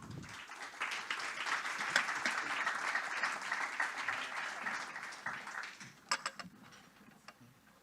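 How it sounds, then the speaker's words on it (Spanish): An audience at a panel forum on renewable energy and the regional electricity market applauds in a fairly faint, steady patter of clapping that thins into a few scattered claps near the end. "Un fuerte aplauso para ellos."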